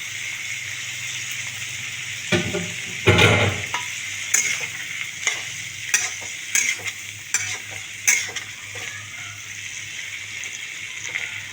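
Chilli chicken with chopped green chillies being stir-fried, a steady sizzle under repeated sharp scrapes and clanks of a spatula against the pan, close and fairly loud throughout.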